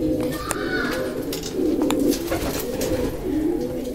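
Homing pigeons cooing at the nest, steady low rolling coos repeating close by over a constant background hum, with faint chirps and clicks above.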